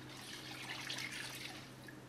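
One cup of Evan Williams cherry bourbon poured into a batch of homemade cherry moonshine, a faint, close liquid trickle lasting about two seconds with no speech.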